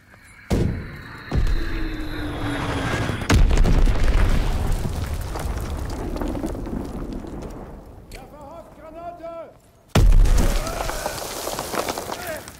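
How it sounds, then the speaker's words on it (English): Game audio from the Call of Duty WWII beta: muffled battlefield explosions with a heavy grenade blast near the end, mixed with gunfire, running footsteps and a player's excited talk. "that grenade actually landed on him and killed him"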